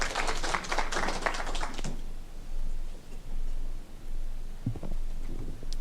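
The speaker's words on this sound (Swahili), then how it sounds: "Makofi anapokuja tafadhali." Applause from an audience at a pension scheme annual general meeting greets a speaker coming up: a dense burst of clapping that fades out after about two seconds, leaving a quiet room with faint knocks.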